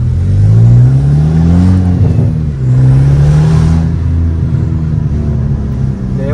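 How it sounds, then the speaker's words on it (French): A Volkswagen Golf 5 GTI with a stainless steel downpipe exhaust revs hard several times, loud and close, its deep booming note rising and falling between surges with no talking. "ceux qui ont une Golf 5 GTI, ils montent un petit downpipe, une suppression d'inter et il y aura le même bruit que ça"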